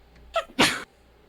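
A single close sneeze, a short breathy intake followed by a sharp explosive burst, stands out against a quiet background.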